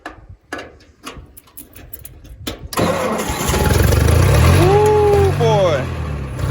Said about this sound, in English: let's get old girl fired up here